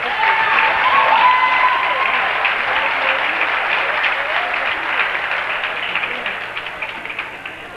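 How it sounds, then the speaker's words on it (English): Crowd applause after a basketball game, a steady wash of clapping and cheering from a gym audience that holds strong and then slowly fades, with voices mixed into the noise. "why don't we give one more round of applause for a great game."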